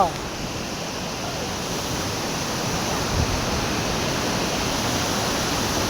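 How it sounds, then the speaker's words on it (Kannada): Rushing water at Vakanikal Falls makes a dense, steady roar that fills the scene, constant and close with no pauses. "ಈ ಒಂದು ನೀರಿನ ರಭಸ"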